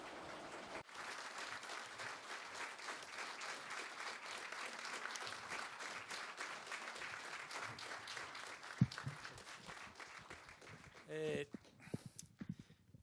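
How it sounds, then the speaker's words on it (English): An audience applauds steadily in a hall as Prime Minister Shinzo Abe arrives at the Tokyo Global Dialogue, with dense, sustained clapping that tapers off near the end, joined by a few clattering sounds and a brief voice. "Please welcome him with a big round of applause."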